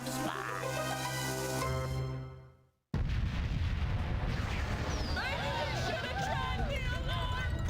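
A house blown up in a video game: a long, loud explosion with a broad rumbling roar that fills the clip after a brief silent gap, mixed with in-game voices and chaotic effects.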